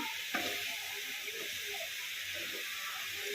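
Peas and mixed vegetables fry in ghee in a pan with a steady, close hiss, and a single faint clink of a utensil comes near the start.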